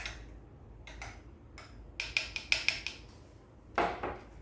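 A spoon clinks against a glass while an iced caramel latte with espresso is mixed, a run of quick close taps near the middle and one louder knock toward the end, over a quiet room hum.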